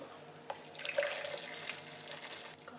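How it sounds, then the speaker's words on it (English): Boiling water pours from a kettle at home in a steady, rushing trickle that swells slightly midway, fairly close and with no talk over it. "watch your hand with the boiling water"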